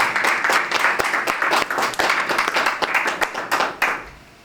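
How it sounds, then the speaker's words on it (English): Audience applause at a Black History Month men's day gathering in Luton, a close room full of brisk, distinct hand claps that hold steady for a few seconds and then taper off abruptly. "just a round of applause"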